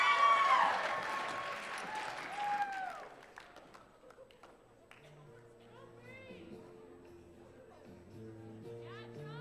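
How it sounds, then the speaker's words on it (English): Audience applause and cheering for a night of singers and instrumentalists, loud and dense at first, then fading within a few seconds into scattered claps and chatter while music plays on underneath. "give them all a huge round of applause"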